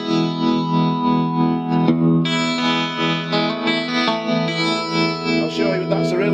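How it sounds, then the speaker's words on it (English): Clean electric guitar with tremolo through a Blackstar ID amp, chords and picked notes pulsing with a steady wavering shimmer, close and full, played alone. "This one's got a bit of tremolo on it."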